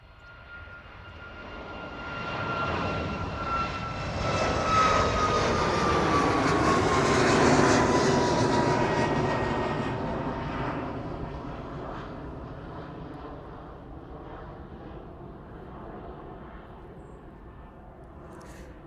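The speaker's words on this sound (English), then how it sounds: "Ryanair service off to Venice there, departing East Midlands." Ryanair airliner bound for Venice departing East Midlands Airport, its engine roar swelling as it passes close and loud around the middle, then fading steadily into the distance as it climbs away.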